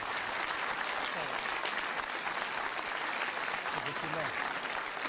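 A concert audience applauds a choir conductor with steady, sustained clapping, heard from a distance and evenly dense throughout, with faint voices underneath.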